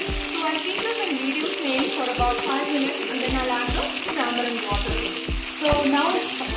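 Vegetables sizzle loudly in hot oil with mustard seeds in a pan for sambar. Low knocks of stirring break through now and then, and a voice is faintly heard beneath the frying.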